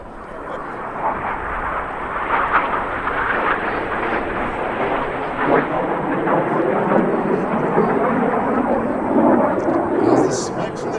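RAF Red Arrows jets pull into a vertical break at the 2019 New York International Air Show, producing a loud, continuous broadband roar that swells and rumbles throughout without letting up.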